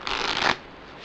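A Bicycle 125th Anniversary Edition deck being cut and handled, giving one brief, soft riffling rush of cards up close that ends abruptly, followed by near silence.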